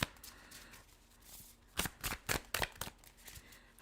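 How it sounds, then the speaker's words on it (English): A tarot card deck is shuffled up close, with a quick burst of crisp riffling flutters after a quiet start, then a few more sharp card-flicking sweeps; no talking. "So like takes me a while to get through the first shuffle."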